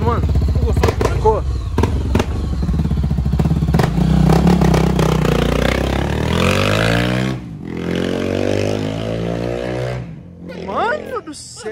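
Honda XRE 300 motorcycle with a Dore aftermarket exhaust, revving up and crackling with rapid pops and bangs on deceleration, loud and close, with people talking over it.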